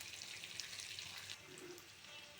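Bay leaves and onions fry in hot oil with a faint, steady sizzle and crackle, short and unbroken.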